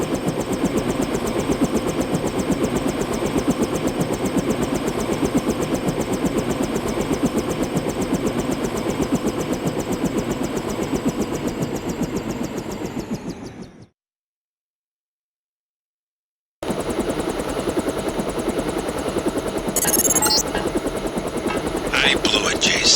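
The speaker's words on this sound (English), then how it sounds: "Time to see if this stealth copter is worth all the fuss." A stealth helicopter from the video game Deus Ex, a steady, loud rotor and engine drone that runs for about fourteen seconds, cuts out completely for a few seconds, then returns just as strong.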